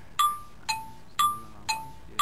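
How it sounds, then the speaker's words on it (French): A small bell dings five times in an even, steady rhythm, each strike bright and ringing briefly before fading, close and clear with no talk over it. "la cloche était pour sonner"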